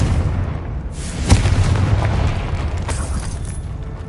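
A Confringo fire spell explodes in the video game Hogwarts Legacy, with one sharp boom rising out of a dense, rumbling wash of steady game sound, followed by lighter bursts and crackles.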